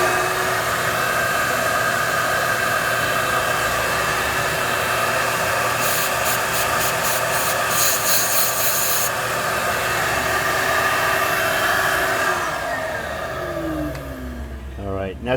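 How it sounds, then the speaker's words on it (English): An air blower and a vacuum run together while cleaning out a high-pressure pump, a loud steady whooshing roar with a brief rapid fluttering stretch in the middle before the airflow winds down. "I'm gonna blow out the same time I vacuum here to catch it"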